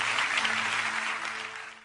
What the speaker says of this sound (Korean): 영광의 박수 올려드리십시다